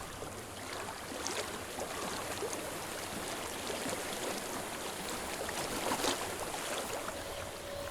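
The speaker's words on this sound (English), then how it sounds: "I hear water." A flowing stream in the video game Hellblade: Senua's Sacrifice gives a soft, steady rush of water, faint and unbroken throughout, with no voices.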